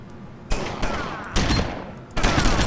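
Gunfire bursts from police officers in the top-down shooter game LA Cops, loud and sharp, with several volleys crashing in at intervals over a sustained noisy backdrop.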